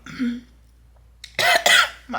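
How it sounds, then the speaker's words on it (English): A woman with a scratchy throat coughs twice in quick, harsh bursts close to the mic after a brief murmur, followed by a short breath. "So I just keep coughing"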